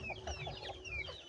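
Bantam chickens on a poultry farm give a quick run of soft, close clucks and chirping calls over a brief moment, with a faint background hum.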